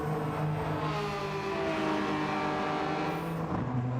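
A 3-cylinder turbo car engine in the RaceRoom racing game drones steadily under load, its buzzy tone shifting slightly as the revs change, close and continuous with no talk.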